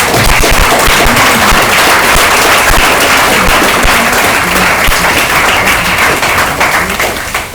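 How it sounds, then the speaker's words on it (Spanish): A church congregation bursts into loud, sustained applause with dense clapping that fills the room at near-constant level for several seconds before easing slightly at the end. "vale un aplauso a Dios"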